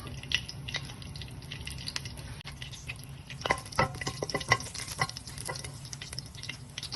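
Whole spices, bay leaf, cinnamon, cardamom and cloves, fry lightly in olive oil with a soft, low sizzle, broken by several clicks and taps of stirring that cluster in the middle and later part.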